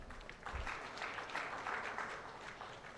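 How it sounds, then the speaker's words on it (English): Scattered applause from an audience at an insurance summit and awards ceremony, moderately distant and steady throughout, with a low thump near the start. "A big round of applause for Mr."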